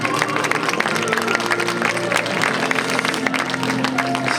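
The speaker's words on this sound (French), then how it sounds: "Applaudissements pour cette créatrice." An audience at a bridal fair fashion show claps for the designer, the applause mixed with background music and some crowd noise, steady and fairly loud.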